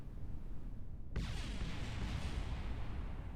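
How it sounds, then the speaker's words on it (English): An explosion in Kerbal Space Program bursts in suddenly after a second of low rumble, leaving a broad crackling roar that stays steady but fairly faint to the end. "I'm hearing explosions."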